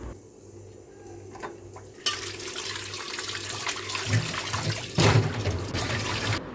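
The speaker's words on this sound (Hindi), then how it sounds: "तो हमें इस बर्तन को 1 से 2 बार पानी से अच्छे से धो लेना है।" A clay pot rinsed with water, starting with a quiet trickle that turns into louder splashing and pouring with some clunks of the pot, and no talking.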